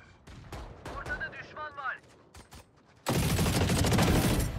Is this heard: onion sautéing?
no